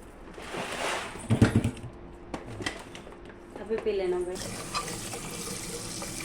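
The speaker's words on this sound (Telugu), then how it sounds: "ఈ రైస్ని ఇలాగా మూడు నాలుగు సార్లు కడిగేసేయాలి వాటర్తో" Water splashes and runs as matta rice grains are swished and rinsed in a bowl, with a tap running nearby and some clattering; a voice speaks briefly.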